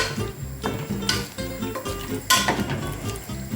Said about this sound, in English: Again, give it a good stir.